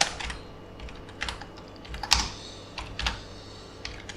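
Computer keyboard typing in quick bursts of clicks separated by short pauses, close and clear, with no talking.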